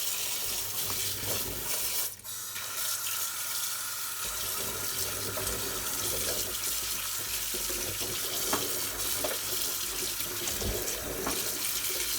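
Water runs steadily from a tap into a basin as green olives are washed, a continuous close splashing flow with no talk.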